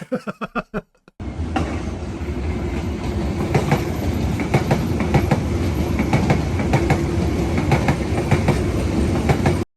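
A train rattles and clacks past a rented apartment room, loud and continuous after a few brief thumps at the start, its wheels drumming steadily on the rails close by.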